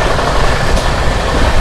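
An LHB-coach Sabari Express runs at about 129 km/h, its loud, steady broadband roar and rumble filling the scene without a break and with no voices.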